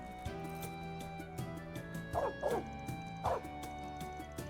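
A dog in a video game gives a few quick yips and barks, three short bursts close by, over a steady layer of game music.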